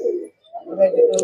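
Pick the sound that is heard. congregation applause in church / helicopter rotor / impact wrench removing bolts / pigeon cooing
pigeon cooing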